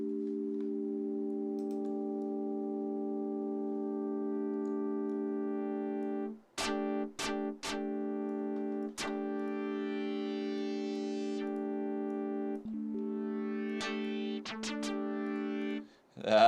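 FM tones from an Ableton Operator synthesizer: a long steady buzzy note, then sharp bright clicks and short metallic bursts in irregular bunches, with denser glassy tones near the end, close and clear.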